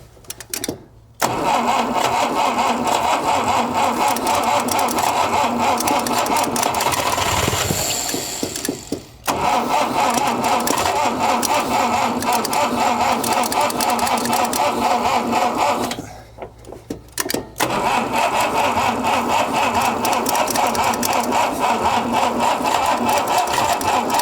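A 1960 Mercedes-Benz engine cranks and runs, loud and close, in long sustained bursts of mechanical churning broken by two brief pauses, with no talk over it.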